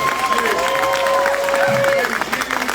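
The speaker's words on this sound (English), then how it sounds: "Big round of applause, everybody, for our guys." Audience applause fills a Walking Dead panel at Saratoga City Comic Con 2024, steady clapping and crowd noise throughout with a voice speaking over it.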